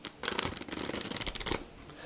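A deck of fortune-telling cards is shuffled by hand, with a rapid, steady riffle of crisp card flutters lasting about a second and a half before stopping, close and clear with no talk.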